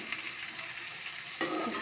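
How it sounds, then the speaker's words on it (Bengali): Jackfruit pieces and ginger sizzle and crackle in a hot pan, a steady hiss that swells louder near the end as stirring moves them around, with no voices. "খুব সুন্দরভাবে কাঁঠালটাকে ভাজবো লাল লাল করে একটু"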